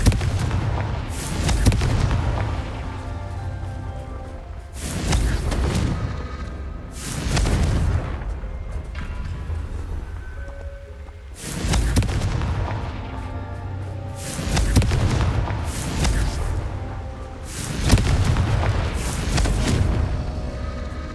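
Confringo blasting spells go off repeatedly in Hogwarts Legacy: about eight loud, booming explosions a couple of seconds apart, each with a rumbling decay, and no talk over them.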